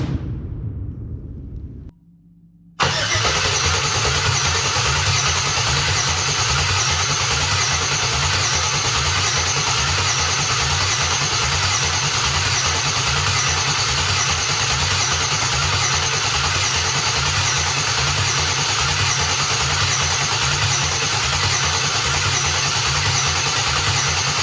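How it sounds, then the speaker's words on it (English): A 1991 Chevrolet Caprice engine cranks briefly, pauses in near silence, then catches and settles into a loud, steady idle that runs on for over twenty seconds with no talk. "We got oil pressure. She fucking cranks."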